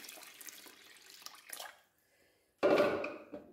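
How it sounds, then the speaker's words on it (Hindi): A jug of water is poured into a cooking pot for chicken haleem, a sudden loud splashing gush after faint clattering and a brief quiet, heard up close. "ये 1 जग हम इसमें अभी डाल रहे हैं।"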